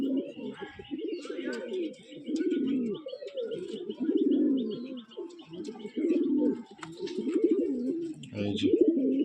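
Pigeons in a loft cooing in repeated low throaty phrases, close and fairly clear, with faint chirps and small clicks scattered between the calls and no talking.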